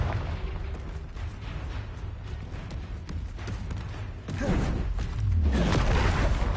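Confringo fire spell blasts in Hogwarts Legacy, whooshing bursts and booming pops over a dense, busy combat backdrop, growing louder toward the end with a low rumbling impact.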